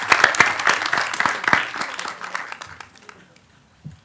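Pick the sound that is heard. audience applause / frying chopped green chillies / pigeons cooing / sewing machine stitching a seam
audience applause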